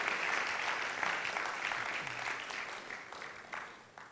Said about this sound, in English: another round of applause for Professor Fred Mark Bagonluri.